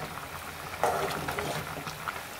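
Brinjal and tomato curry in a pan on the stove just starting to boil, giving a faint, soft bubbling sizzle that rises after a quiet moment and holds steady and low.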